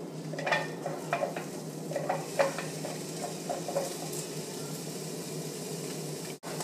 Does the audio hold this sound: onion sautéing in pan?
yes